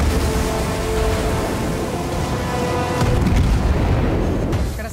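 Naval gun shots in the World of Warships video game, a loud dense roar of heavy booming blasts that run together into one continuous rumbling wash.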